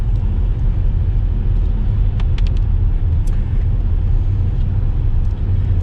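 A car drives through snowy Bucharest streets, its steady low engine and road rumble filling the cabin evenly, with a few faint clicks and no talking.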